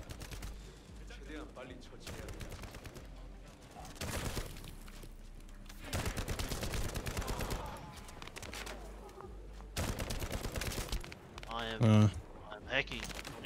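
Sniper and other gunfire in the shooter game The First Descendant, bursts of shots and cracks in separate clusters with quieter gaps between them, with a player talking over the action.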